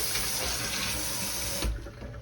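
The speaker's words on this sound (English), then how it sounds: "I'm going to wipe my knife with hot water" Hot water runs steadily from a kitchen tap while a knife is wiped before cutting sweet potato pie, a loud continuous splashing stream that cuts off abruptly near the end.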